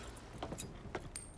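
Keys jangle in the Mafia III video game: a few short, faint metallic jingles clustered near the middle, with no talk.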